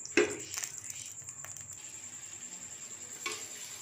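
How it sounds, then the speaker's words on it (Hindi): Raw mango pieces fry in hot oil in a pan, a soft steady sizzle with a few sharp metallic clinks of a utensil against the pan, fairly quiet and close. "तो ये देखें हमने इसके अंदर कच्चे आम इसके अंदर डाल दिए। अब थोड़ी देर इसको करूँगी मैं फ्राई।"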